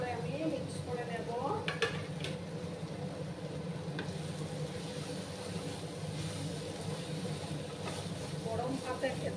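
Red spinach with poppy seeds being stirred in a hot pan, the utensil scraping and clinking now and then over a soft, steady sizzle, close and fairly quiet with no talk.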